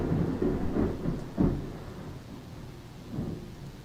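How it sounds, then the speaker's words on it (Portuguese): Heavy rain pours steadily with low rumbles of thunder rolling through it, one sharper boom standing out before the storm settles into a dull wash. "Tá chovendo muito"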